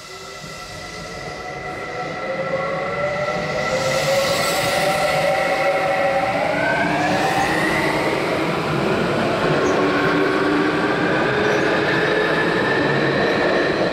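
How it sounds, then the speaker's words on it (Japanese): Train sounds in a Japanese railway recording with swapped-in audio: a steady, loud rumble of a train running on rails with a brief horn or whine rising midway, continuous throughout with no talk. "今回の音電話、電車の音を入れ替えてみました。"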